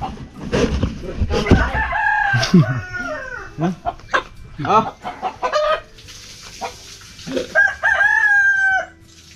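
A rooster crows loudly and close by at a rural farm clearing, mixed with clucking chickens and scattered other bird calls, while people talk intermittently in the background.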